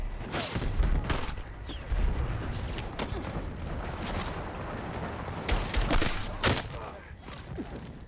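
Rapid gunfire rattles in Battlefield multiplayer, repeated sharp shots and bursts in clusters including a shotgun slug blast, loud and close over a busy battlefield background.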